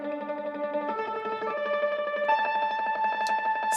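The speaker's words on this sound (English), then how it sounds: "So we've got a clarinet." A sampled clarinet voice on a Mellotron M4000D keyboard plays sustained tones through always-on reverb, steady and upfront with no talking, a few bright clicks near the end.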